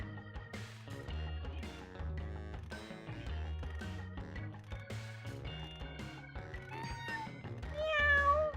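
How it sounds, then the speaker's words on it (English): A cat meows during an online tutorial session, its voice rising and falling over a steady bed of music, with the clearest, loudest call near the end. "Volt Lightning just meowed."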